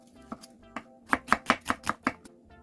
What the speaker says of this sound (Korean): 양파 반개도 채 썰고